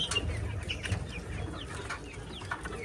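Chickens and a rooster on an enclosed native chicken farm cluck softly and repeatedly, a low busy flock murmur with faint calls scattered over a steady background.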